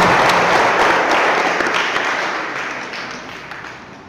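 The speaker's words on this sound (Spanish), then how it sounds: "Aplauso para Sofía." A church congregation applauds a newly baptized girl, Sofía, with dense, sustained clapping that starts full and gradually fades over several seconds, with no voices on top.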